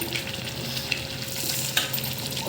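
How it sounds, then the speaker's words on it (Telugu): Fried onions go into a pot of egg biryani, bringing a steady, loud sizzle and crackle with a few sharper pops and stirring scrapes, close to the pan and with no talk. "ఇదండి ఫ్రైడ్ ఆనియన్స్ ఇవి వేస్తున్నా"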